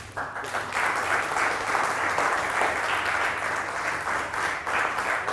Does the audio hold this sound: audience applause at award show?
yes